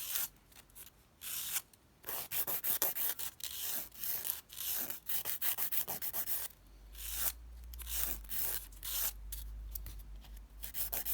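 A nail file rasping across a fingernail at a 45-degree angle, close and crisp, in repeated short strokes with brief pauses between bursts.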